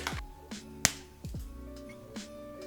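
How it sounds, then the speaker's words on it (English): Several sharp, crisp cracks spaced apart as properly tempered chocolate is snapped, each with a short bright click and quiet gaps between. "That is the sound of properly tempered chocolate."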